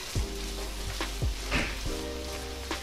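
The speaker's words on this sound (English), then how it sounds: "let the seasonings cook in there" Seasonings and red pepper sizzle steadily in a hot pan, a constant close frying hiss broken by a few soft stirring scrapes.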